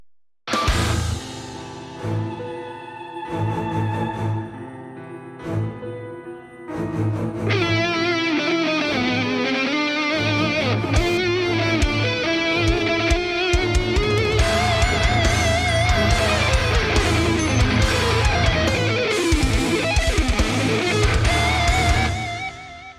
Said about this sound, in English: So the guitar solo sounds like this.